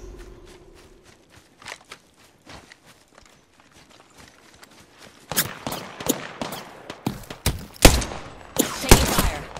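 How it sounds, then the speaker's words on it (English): Gunfire in the game Apex Legends: a quiet stretch of scattered small taps and faint footsteps, then a run of loud, close, sharp bursts of shots in rapid succession through the second half. "Taking fire."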